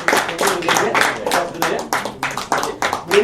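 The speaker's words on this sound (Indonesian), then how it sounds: "kita tepuk tangan untuk Ibu Deni ya" Audience clapping for Ibu Deni at an NLP success seminar, a run of distinct hand claps in an uneven rhythm, close and loud, with a voice talking over it.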